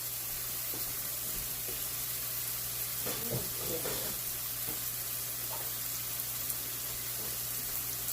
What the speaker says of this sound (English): I think that skillet's hot enough that I can go ahead now and put my onions and my peppers in there.